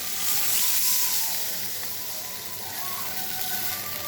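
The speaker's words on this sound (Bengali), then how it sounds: "কষানো হয়ে গেছে, এবার জল দিয়ে দেবো।" Water is poured into a pan of sizzling eggplant curry, giving a steady, hissing wash of frying noise that swells and then settles, close by and continuous, with no voices.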